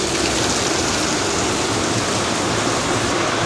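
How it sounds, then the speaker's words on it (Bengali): Heavy rain pours outside in a dense, constant hiss that fills the clip, loud and unbroken, with no voices over it. "বাইরে চরম বৃষ্টি হচ্ছে,"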